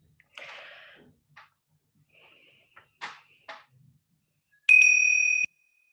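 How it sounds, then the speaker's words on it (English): A single clear bell strikes and rings out with a sustained bright tone to open a mindfulness practice, following a few soft scattered knocks and rustles in an otherwise quiet room. "I'm going to ring a bell at the beginning and the end of the practice"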